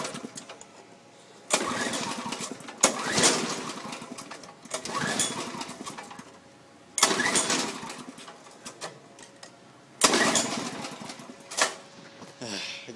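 A small engine with a recapped spark plug, choke and idle set to full, is started repeatedly; each start brings a burst of running that dies away, giving several uneven surges over about thirteen seconds, fairly close.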